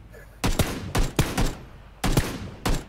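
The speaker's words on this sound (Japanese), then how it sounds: "撃ってるなぁ。" Bursts of automatic gunfire in the battle royale game PUBG, five loud rapid volleys with short pauses between them, close and sharp, with no talking over them.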